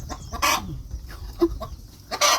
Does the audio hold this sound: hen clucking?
yes